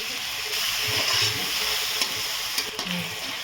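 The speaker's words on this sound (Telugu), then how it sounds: "ఇప్పుడు టమాటాలు వేస్తాం" Tomatoes and fresh mint sizzling steadily in a hot pan for egg biryani, with a constant close frying hiss and occasional soft stirring clicks.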